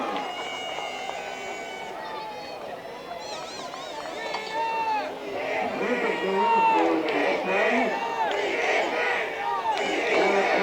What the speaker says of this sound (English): Crowd is really getting into this game now